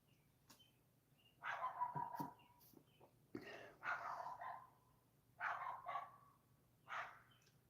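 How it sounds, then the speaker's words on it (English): A dog left out in a nearby yard at night barks in several separate bursts, moderately close, with a faint bird call and a low steady hum underneath. "just feels like the dog has been left in the yard and nobody cares"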